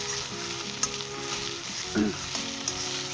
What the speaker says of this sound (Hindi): अब हम इसके अंदर जो मैंने चावल फैला कर रखे हुए थे ये डाल देंगे, और अच्छे तरीके से मिक्स कर लेंगे